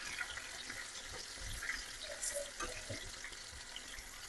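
Pieces of bitter gourd (kakarakaya) fry in oil in a pan, giving a faint, steady sizzle with soft crackles and occasional stirring sounds and no talk.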